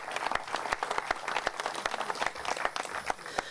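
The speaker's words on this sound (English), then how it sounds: "I think we all need to give Scott Lebato a big round of applause" An outdoor groundbreaking ceremony crowd applauds with a dense, lively patter of clapping hands that carries on steadily throughout.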